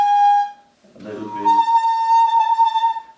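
Musical saw bowed poorly in the manner of a violin or cello player: after a short clean tone and a scratchy attack, a wavering sustained ringing note holds for a couple of seconds, close and fairly loud, with a few spoken words at the start.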